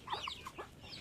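A young rooster clucks in a few short, faint calls with brief pauses between them, heard alone with no voices.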